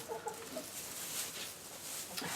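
Around thirty chickens in a coop make soft, scattered clucks over a constant hiss of background noise, faint and low-level, with no talk.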